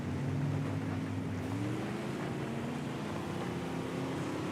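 A weak, underpowered car engine in the Baja HD racing game strains up a hill, giving a steady, continuous low drone with slowly rising pitch that fills the whole stretch without any speech.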